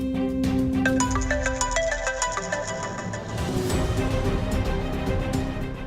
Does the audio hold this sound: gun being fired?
no